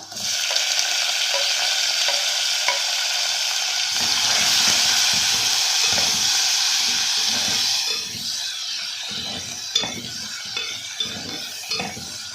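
Finely chopped tomatoes hiss and sizzle steadily in a hot pan for a potato and fenugreek curry, with a loud burst as they go in and softer crackling and scraping stirs afterward.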